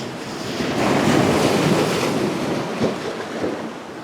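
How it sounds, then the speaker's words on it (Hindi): Ocean waves crash against rocks on the black-sand coast of Kala Chapra in Balochistan, a broad roaring surge that swells and then slowly recedes, with gusting wind buffeting the microphone and no voices. "अब देखिए जब बड़ी लहर आएगी ना, फिर आप देखिएगा कैसे इन चट्टानों के साथ जब लहर टकराती है"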